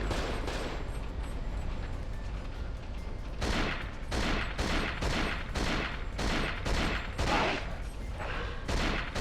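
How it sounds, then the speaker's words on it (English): Shotgun blasts fire in the survival-horror video game Cold Fear on PS2, a rapid run of about eight loud, sharp booming shots in the second half over steady game ambience. "Ah, the good old shotgun."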